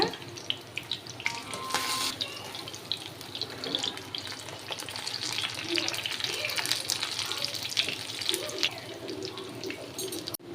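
A rava snack fries in hot oil with a steady crackling sizzle, busy and close, continuing evenly throughout with a few louder spatters.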